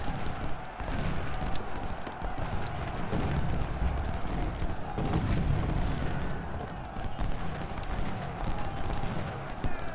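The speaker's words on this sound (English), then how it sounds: "Main thing is I wanted to stop taking canister fire from those guns there." Canister shot from Civil War cannons at Bull Run in the strategy game Ultimate General Civil War, a dense, continuous rumble of booming artillery and crackling gunfire with no clear gaps.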